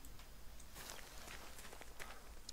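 A short run of soft video game footsteps sits near the listener at low volume, with no speech.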